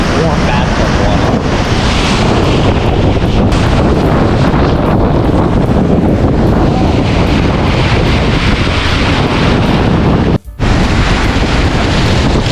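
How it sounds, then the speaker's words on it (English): Big waves crash continuously on Lake Michigan under strong wind, a loud, dense roar of surf and gusts buffeting the microphone, broken by one brief dropout near the end. "Big waves."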